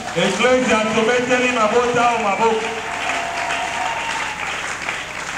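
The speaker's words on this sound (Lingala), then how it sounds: "l'Église, acclamons pour ces deux familles." Applause for two families at a wedding blessing in a church, steady clapping from a gathered congregation across the whole clip, with a voice speaking over it at the start and a few raised calls near the end.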